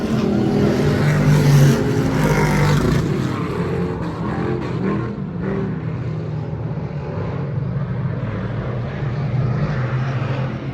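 Race cars at Little League Night roar steadily through the corners as one driver chases the leader, a continuous loud engine drone with a rising swell early on, no voices over it.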